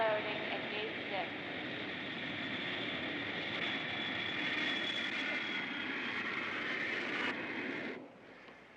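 An airliner on a flight from Cairo arrives at an airport gate: a steady, fairly loud engine whine and roar holds throughout, then cuts off abruptly near the end.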